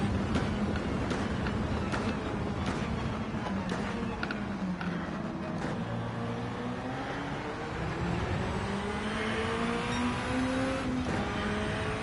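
Gr2 race car engine in Gran Turismo 7 on the Le Mans circuit, a loud continuous drone that climbs in pitch through the gears, with no speech over it.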